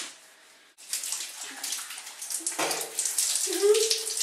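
Shower water starts gushing abruptly and keeps running steadily, splashing and rising in intensity, with a brief higher tone near the end.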